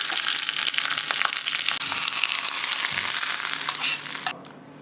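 Cumin seeds and green chillies sizzle in hot ghee for a tempering, a loud, steady close-up crackle that cuts off abruptly just before the end.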